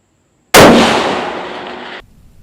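A Seekins rifle fitted with an Axisworks muzzle brake fires one sharp, loud shot outdoors, followed by a reverberating tail of about a second and a half that cuts off into near silence.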